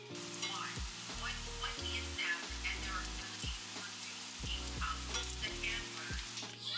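Potato and egg patties sizzle steadily in a hot pan, a continuous crackling fry with scattered pops and a low musical hum running underneath.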